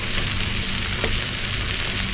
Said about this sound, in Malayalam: ചിക്കൻ എല്ലാം വറുത്തെടുത്തിട്ടുണ്ട്.